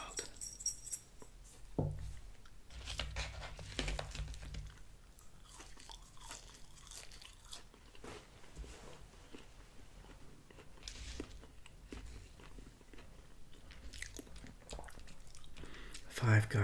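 Five Guys style French fries being eaten up close, with soft, quiet crunches and chewing sounds in scattered bursts over a low background, some brief louder bites mixed in.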